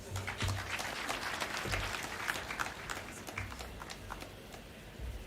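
An audience at the East African Community MSMEs trade fair claps together, a soft but steady patter of many hands that continues at a moderate distance for several seconds.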